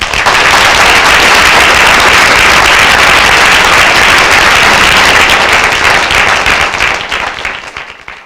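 Loud, sustained audience applause welcoming a guest speaker at a university lecture, a dense roar of many hands that holds steady for several seconds, then thins out and fades.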